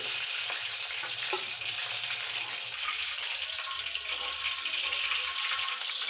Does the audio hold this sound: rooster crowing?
no